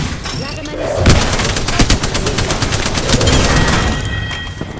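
Rapid automatic gunfire in Apex Legends, a loud sustained burst of shots in quick rhythm with heavier booms, mixed with voices underneath.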